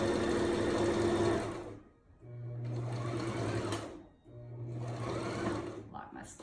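A sewing machine stitches a baby blanket in three close, loud bursts separated by brief pauses, with a short rattle at the very end.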